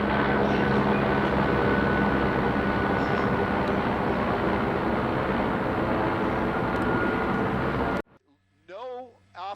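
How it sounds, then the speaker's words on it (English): A loud, steady rotor drone fills most of the clip, a TV news helicopter passing overhead during a police chase, then cuts off abruptly before a voice speaks briefly. "that's another of the TV helicopters going by."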